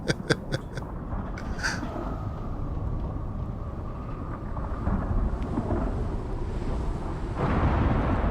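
Stormy weather in the video game Icarus: a steady roar of wind and rain with rolling thunder, a few sharp clicks at the start, and the rumble swelling louder near the end.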